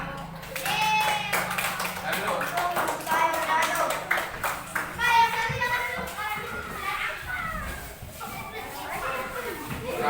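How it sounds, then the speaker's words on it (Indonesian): Children in a classroom clap their hands in a brief burst amid lively chatter and kid voices, with taps and shuffling as the class settles; an adult's voice speaks briefly. "Tepuk tangan."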